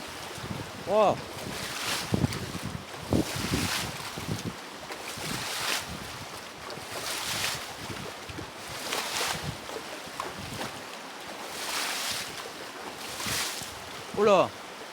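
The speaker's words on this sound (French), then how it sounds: "Aujourd'hui la rivière est vraiment agitée." Rough, agitated river with waves close by, a constant turbulent wash punctuated by rhythmic bursts of splashing and gusts of wind noise.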